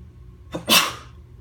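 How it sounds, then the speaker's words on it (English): One close, abrupt human sneeze with a short intake just before it, loud against a quiet background. "I had to sneeze."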